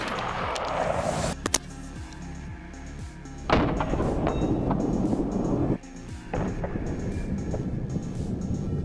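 A rifle fitted with a JP Enterprises flash hider fires a single sharp, loud shot near the start, followed by ringing echoes and dull thumps over a steady outdoor background hum.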